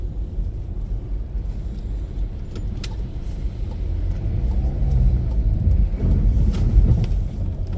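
Cars struggle through a heavy winter snowstorm at a right turn onto Woodbine in Toronto, heard as a steady low engine rumble that swells louder toward the end, with occasional light clicks and no talking.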